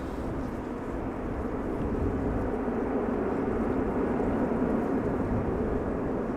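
Broadband jet roar from a Finnair airliner at Amsterdam Schiphol Airport, steady and moderately loud, swelling slightly as it goes, with no talking.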